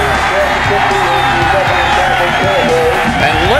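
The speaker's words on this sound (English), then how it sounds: "And listen to the crowd go wild behind their book." A football crowd roars and whoops in a steady, loud wash of cheering that runs the whole time, a voice talking over it.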